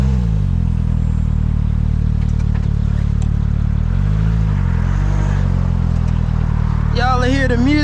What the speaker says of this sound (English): Y'all hear the music of this 4-cylinder Polaris. It screams